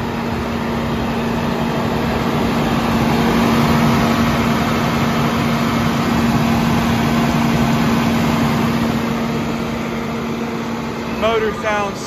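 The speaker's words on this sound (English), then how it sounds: "Motor sounds super healthy." A 2006 International 4400 digger derrick truck with an Altec DL42 boom idles steadily nearby, a continuous low engine drone with a faint whine, followed by a few brief clicks near the end.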